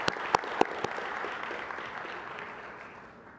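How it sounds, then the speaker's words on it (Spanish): Applause at an IPv6 challenge prize ceremony: a few sharp, close claps stand out over fainter crowd clapping, which then thins and fades away. "un fuerte aplauso, por favor, para la Universidad Distrital Francisco Caldas."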